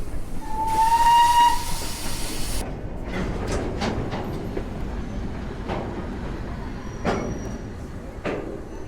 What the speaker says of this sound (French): cette locomotive à vapeur qui évidemment vibre et vit avec, comme vous le voyez derrière moi, les vapeurs d'eau